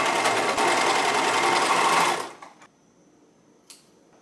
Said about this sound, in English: a serger basically is a machine that cuts and sews at the same time